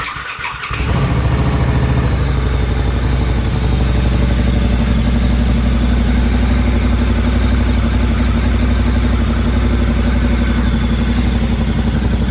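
A Harley-Davidson V-Rod 100th Anniversary motorcycle fires up about a second in, then settles into a loud, close, steady low rumbling idle with no talking.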